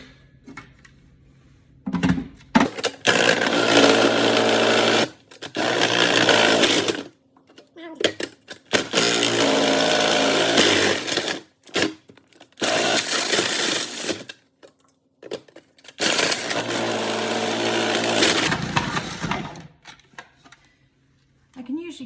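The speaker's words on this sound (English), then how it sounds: "So let's get grating." Bars of soap being grated for homemade laundry detergent, heard as loud, harsh whirring bursts of several seconds each, repeated five or six times with short quiet gaps between them.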